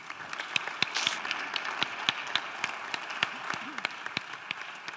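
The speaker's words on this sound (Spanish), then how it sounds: "Un fuerte aplauso, por favor." An audience at a panel session on emotional health in organisations gives applause for a foundation's director of psychological care, a moderate spread of individual claps with sharp distinct hand strikes ringing through the room.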